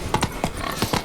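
Roach, the horse in The Witcher 3: Blood and Wine, clip-clops along in a short run of crisp, evenly spaced hoofbeats, close and clear with no talk over them.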